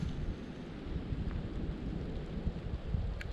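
Steady rain falls on the Appalachian Trail during a thru-hike, a dense close hiss with a low rumble underneath and no voices.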